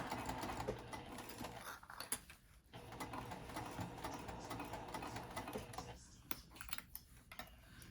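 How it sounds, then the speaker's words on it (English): A sewing machine stitches a flat-bottom zipper pouch, running in a steady mechanical whir with brief pauses and soft clicks, fairly quiet and close. "we're going to go ahead and stitch on over to our"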